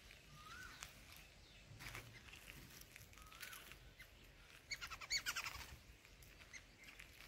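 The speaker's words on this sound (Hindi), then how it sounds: "हाँ जी पूरा जंगल है जी, पंछियों की आवाज़ा थानू मिलनिया सुनन जी।" Birds calling in the forest around a gurdwara near Ludhiana, faint scattered chirps and a few caws at a distance, with a brief louder flurry of calls toward the end.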